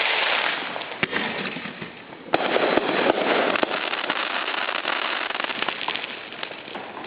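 Commercial fireworks bursting somewhere in a residential neighborhood, a dense continuous crackle and sputter with several sharper pops rising out of it, steady and fairly loud throughout with no voices.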